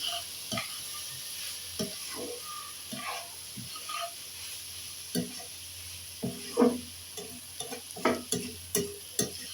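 Fried rice being stir-fried with spring onion greens, a spatula scraping and clattering in irregular bursts over a faint steady sizzle, the strikes growing louder and more frequent toward the end.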